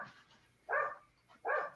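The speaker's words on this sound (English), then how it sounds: "You can hear the dog barking now." A dog barks twice in separate bursts, faint and some distance away, with a quiet gap between the barks and no talking.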